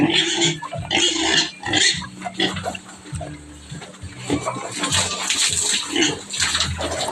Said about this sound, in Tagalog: Ang lakas nilang uminom.